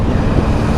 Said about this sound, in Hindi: सो रहे थे, बाइक की आवाज़ सुनते ही उठ गए